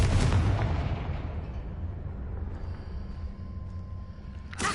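Confringo fire spell blast in Hogwarts Legacy, a loud booming explosion at the start that rolls into a long fading rumble, ending with a brief faint burst.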